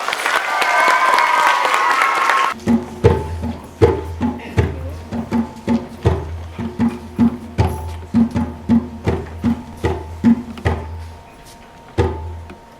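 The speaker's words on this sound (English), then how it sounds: "Give them a round of applause." A school audience applauds a grade 4 play with dense clapping for a couple of seconds, followed by a series of rhythmic hollow knocks and thumps repeating across the rest.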